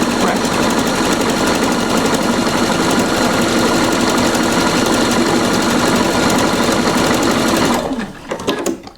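A Pfaff 720 sewing machine stitching a buttonhole in fabric, a loud, fast, steady mechanical chatter held for about eight seconds before it slows and stops with a few final clicks.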